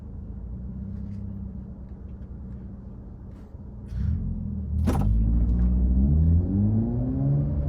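Toyota Supra engine and aftermarket exhaust mufflers rumbling nearby at a stop, a low steady idle that swells into a louder, deeper drone with a brief sharp rise partway through, heard from inside another car.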